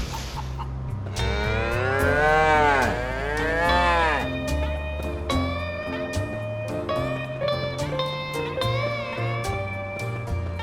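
Cows mooing in the Fairly OddParents video game cattle-herding stage, several long drawn-out moos in the first half over steady game music that carries on alone afterward.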